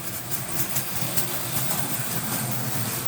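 A Marx 490 toy train locomotive, assembled from spare parts, runs around its track with a steady electric motor whir and faint rattle. The sound is continuous and even and sits close by, with no voice over it.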